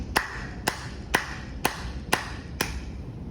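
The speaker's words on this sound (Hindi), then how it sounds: "तो जब आप इस तरह से ताली बजाते हैं और वो जो रिसोनेशन होता है" Six sharp resonant hand claps, made with the four fingers held together and the thumb apart, ring out at an even pace about half a second apart, close and clear with a bright ringing tail and no talk.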